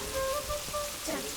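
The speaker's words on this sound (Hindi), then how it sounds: "धूप निकली है तो बारिश क्यों हो रही है?" Rain falls steadily on a sunny day as a soft, continuous patter, with a few brief tonal sounds rising over it and no one talking.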